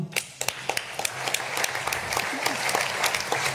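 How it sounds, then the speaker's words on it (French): A conference audience at a round-table session on a solar thermal roadmap applauds a speaker with a dense, lively burst of clapping from many hands, filling the room evenly for the whole stretch. "Merci beaucoup Loïc, on peut vous applaudir."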